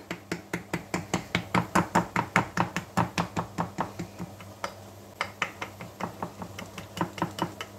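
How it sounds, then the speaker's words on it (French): A fork pricks the pastry base of a leek tart in a fast, even run of sharp taps on the tin, close and crisp, about three per second with a brief pause midway. "je viens piquer le fond de ma tarte"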